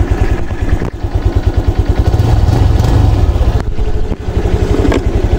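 A Honda Click 125 V3 scooter engine runs close and loud with a low, uneven pulsing beat and a slightly rough, misfiring cadence throughout, with no talk over it.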